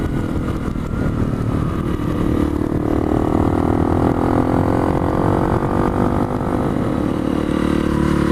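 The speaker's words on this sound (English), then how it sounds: "The Q4 is supposed to be the quiet one, although see, it still sounds pretty noisy to me" A Honda CRF250L motorcycle fitted with an FMF Q4 exhaust runs with a loud, close, continuous engine drone, its pitch climbing slowly as it pulls along, with no pauses.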